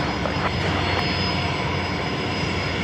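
A Singapore Airlines airliner lining up on the runway at Brisbane Airport gives off a steady, loud jet engine roar with a constant whine, unbroken and without talk.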